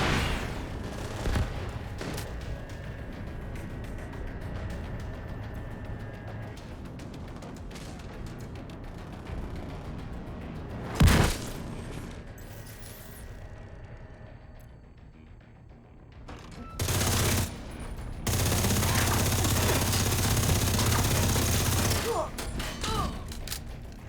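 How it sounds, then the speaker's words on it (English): Gunfire and rocket blasts from the video game The Division 2, with scattered shots and thuds, a sharp loud burst mid-way and sustained roaring later, under a dense bed of game noise. "Fire the left rocket."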